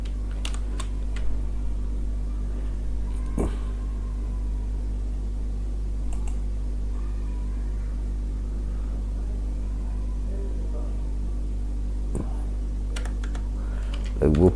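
Keys tapped on a computer keyboard while a file name is entered during web design work, faint scattered clicks over a steady low hum.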